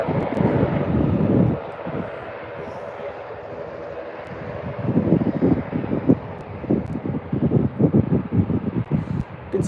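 An Aer Lingus ATR 72-600 turboprop departs Birmingham for Belfast, its engine drone steady and fairly loud, with microphone wind buffeting and a pulsing swell late on; a voice talks over it at times.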